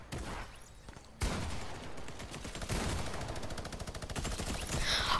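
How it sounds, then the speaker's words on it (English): Fortnite gunfire fills the scene, heard as dense rapid-fire shooting and rattling bursts that grow louder after a sharp shot near the start, loud and continuous with no voices over it. "There's people shooting all around here."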